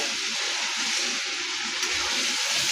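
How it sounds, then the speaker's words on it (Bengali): Water poured into the pan of gourd kofta gravy, a loud, continuous rushing gush held steady from start to end. "এর মধ্যে জল দিয়ে দিচ্ছি"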